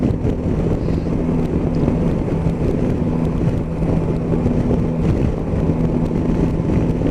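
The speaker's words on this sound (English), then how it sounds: "at 50 mile an hour the wind isn't obtrusive at all" Wind rushes steadily past a rider on a Yamaha Tracer 9 motorcycle at 50 mph with the screen set low, a dense, even low roar of air and engine that stays constant, with no speech.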